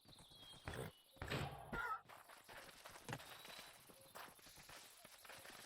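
Horse hooves clip-clop in a blocky dark-wood survival game world, a few irregular near steps with sharper thuds early on, over a steady ambient game background.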